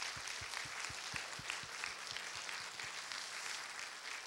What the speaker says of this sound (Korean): 우리 박수 한번 드리겠습니다